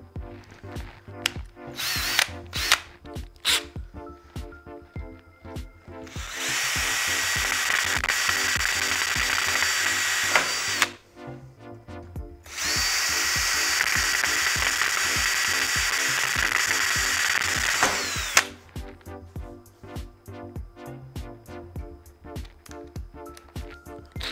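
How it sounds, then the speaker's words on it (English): Two long bursts of a power drill with a 1/8-inch bit whining steadily as it drills out rivets on a PC case, separated and surrounded by rapid mechanical clicking and ratcheting. "So now I'm going to get my drill with the 1/8 bit because the rivets are 1/8 bit."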